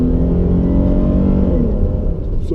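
A V8 muscle car engine, a Charger or Mustang, revs loudly as the driver downshifts a few gears, a strong steady drone that rises and falls close by.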